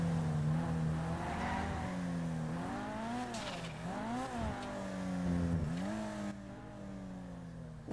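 Cars in the Redline RP driving game rev and accelerate steadily, engine pitch rising and falling in repeated sweeps with a constant rumble and no talk.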